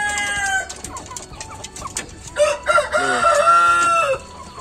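Large KUB (Kampung Unggul Balitbangtan) chickens, first-generation breeders raised from day-old chicks, crow and cluck in a pen, with a drawn-out rooster crow rising loud and close over scattered clucking.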